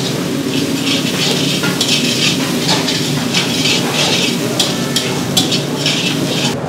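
Cooked chana dal and fenugreek stirred into a hot pan of tempering, a steady sizzling fry with repeated scraping stir strokes, close and fairly loud, no talking.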